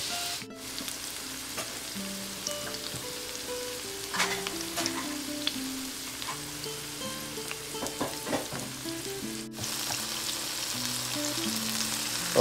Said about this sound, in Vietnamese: bây giờ các bạn chiên vàng vàng như vậy là đã được rồi nha các bạn